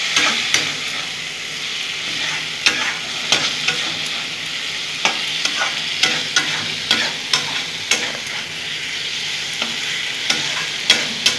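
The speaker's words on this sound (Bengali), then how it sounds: "আলুটা নেড়ে নিলাম" Potatoes with spices fry in a pan while being stirred, a close sizzling hiss broken by regular scraping strokes of a utensil against the pan.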